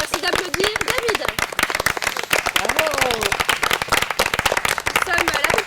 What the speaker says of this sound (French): Merci d'applaudir David.